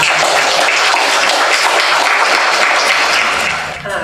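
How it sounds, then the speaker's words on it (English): A crowd claps steadily and loudly, dense applause holding for a few seconds before tapering off at the end. "Let me give you all a round of applause"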